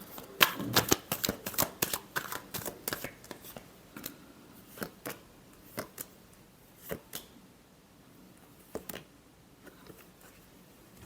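Tarot cards are shuffled by hand in quick riffling bursts, then a series of separate soft snaps and taps as cards are handled, close and quiet.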